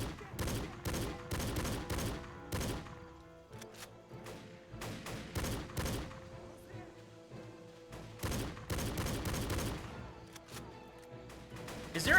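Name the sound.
1911 handgun gunfire in Battle for the Pacific video game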